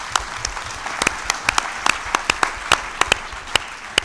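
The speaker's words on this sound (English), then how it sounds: "Please, a big applause to all of them" Audience applause at a closing conference session, a continuous bed of clapping with sharp individual claps popping out close and loud throughout.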